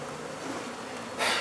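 Honey bees drone in a steady, dense buzz during a hive removal in Brownsville, Texas, growing louder and brighter in the final moments as the swarm comes close to the microphone.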